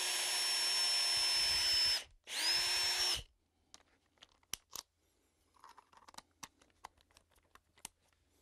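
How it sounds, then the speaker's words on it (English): A power drill drives a screw into wood in two loud, close whirring bursts. Quiet clicks and handling noises follow in an otherwise still room. "So I'm going to drill one side first."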